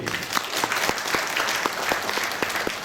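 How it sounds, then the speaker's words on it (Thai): Wedding guests applaud the groom with a steady patter of many hands, close and moderately loud, with faint voices mixed into the crowd. "ปรบมือให้กับเจ้าบ่าวผู้โชคดี"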